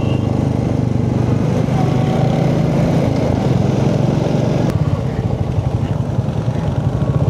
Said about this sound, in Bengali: আমি ফার্স্ট টাইম এরকম মানে আঁকা বাঁকা রাস্তায় বাইক চালাচ্ছি